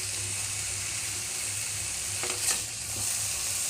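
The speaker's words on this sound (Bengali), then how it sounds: "ভাজা ভাজা করতে হবে যাতে তলায় লেগে না যায়" Mixed vegetables for a roast dish fry in a pan with a steady, even sizzle, and brief stirring scrapes come midway through; no talking.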